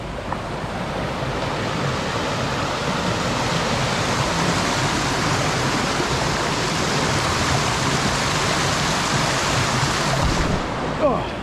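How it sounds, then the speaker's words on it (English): Rushing stream water roars steadily at a hiking trail crossing in rainy mountain woods, loud, broadband and unbroken for the whole stretch, with no voices. "First water crossing."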